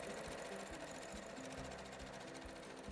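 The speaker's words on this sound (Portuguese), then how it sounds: "Agora, você usando aí essa máquina de costura nova" A new sewing machine stitches along the edge of a fabric cover, giving a fast, steady mechanical chatter with regular needle thumps, close up and continuous for about three seconds, no voices.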